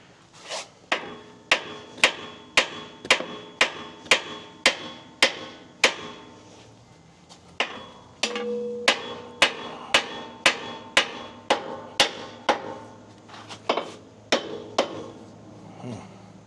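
Regular, sharp metallic hammer strikes ring out on the bent rear axle of a Marmon truck, about a dozen evenly spaced blows, a short pause, then more clanging hits.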